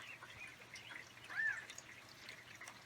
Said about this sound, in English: Oh, and a crow crowing.